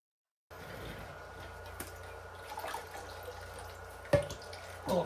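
Water runs steadily at close range while Comet cleanser is rubbed off a 1956 Gasser wagon's rear door body filler, a continuous hiss broken by a couple of sharp clanks and splashes near the end.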